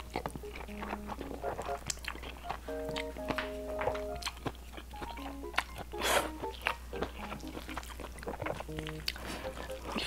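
Close, quiet slurping and chewing of corn cheese carbonara buldak fried noodles, with soft crunchy bites and utensil clicks scattered through the clip over a low steady hum.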